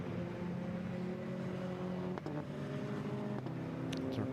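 Racing cars pulling away together at a race start at Silverstone in a British Endurance Championship Trophy race, a steady loud engine drone with a couple of sharp gear-change dips, no talk.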